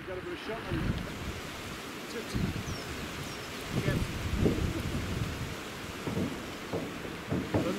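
A strong north wind blows across a wild camp beside crags in the Cheviots, roaring and buffeting the microphone in steady gusts with low rumbling surges, and a voice speaks briefly beneath it.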